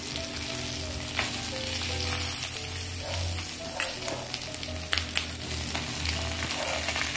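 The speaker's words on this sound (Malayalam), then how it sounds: "ഒന്ന് നന്നായിട്ട് ചുവക്കെ നമുക്ക് വറുത്തെടുക്കാം കേട്ടോ" Grated coconut and coconut pieces roasting with spices in a pan for a roasted Kerala coconut chutney give a steady close sizzle and crackle throughout, with occasional scraping stirs.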